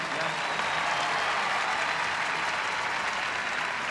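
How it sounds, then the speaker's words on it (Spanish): A large audience at Pope Francis's vigil with young people in Panama applauds a testimony, the dense, even clapping continuing unbroken from start to finish. "Merecen un aplauso."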